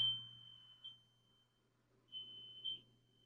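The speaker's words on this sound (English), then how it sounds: "yes, smoke detector going off" A smoke detector at a minor league baseball game emits a continuous high-pitched electronic tone, steady and fairly faint, with a few brief louder swells and no talking.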